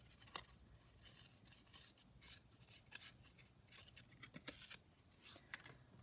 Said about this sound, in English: I think what I might do actually is just tear along the top